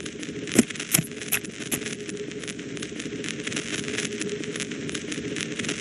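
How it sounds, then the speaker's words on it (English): A video game sound theme: continuous crackling static with sharp, stabbing impact hits scattered through it, loudest near the start, with no clear voice standing out. "The three parts to this one were static, stabbing sounds, and a woman laughing."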